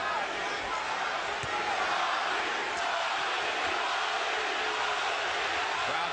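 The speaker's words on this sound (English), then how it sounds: "Crowd begins to chant" Boxing arena crowd at Gatti versus Ward roaring steadily throughout, a dense loud wash of voices with faint rhythmic chanting of Gatti's name folded into the din.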